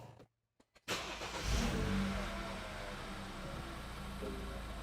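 A BMW N20-engined 328i F30 with an 8-speed automatic starts and runs up after brief silence, settling into a steady, loud engine drone, heard from close by.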